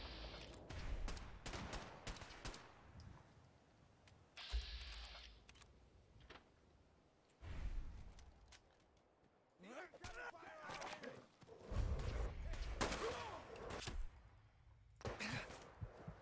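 Scattered SKS rifle shots crack out in a modded Fallout game set in the Commonwealth, several bursts of gunfire separated by quieter stretches, with voices talking over some of the action.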